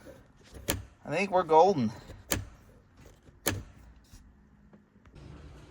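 A stiff power window on an abandoned BMW E46 wagon is worked up and down. A wavering motor whine sits between sharp door or switch clunks, and someone speaks briefly.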